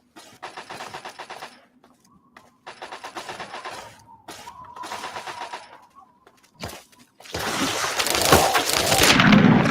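Fireworks in the Fallout: Tale of Two Wastelands video game, with bursts of crackling pops in several clusters, then a louder, denser rumbling barrage near the end.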